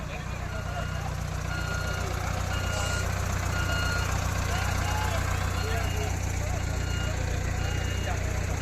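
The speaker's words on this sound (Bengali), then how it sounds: "দেখছেন জেসিবি দিয়ে টানা হচ্ছে" A JCB excavator tows a crashed government SBSTC passenger bus near a railway gate. A loud, continuous diesel engine roar fills the scene, with faint repeating beeps and background voices.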